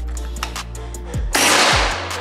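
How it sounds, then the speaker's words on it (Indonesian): Ghost Warrior V2 air rifle fired once, a sharp close crack over a steady low hum, followed by a second softer report and a broad hissy tail of noise. "Dan kita coba lagi tembakan yang ketiga ini."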